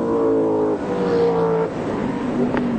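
A 1995 Australian Touring Car Championship race car at Winton rushes past down the back straight, its loud engine note holding a steady pitch, then shifting lower as it goes by, a second engine tone following close behind.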